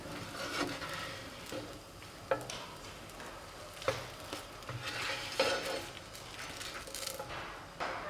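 A dosa crisps on a pan over medium heat with a low, steady sizzle, mixed with scraping and clinks of a spatula against the pan.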